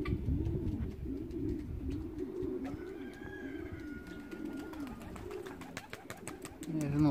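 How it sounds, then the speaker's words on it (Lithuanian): A racing pigeon flaps around during a training flight outdoors, sharp wing claps and rustles scattered throughout over nearby pigeons cooing in low, wavering calls, fairly close. "dar patarška čia balandžis treniruojamai"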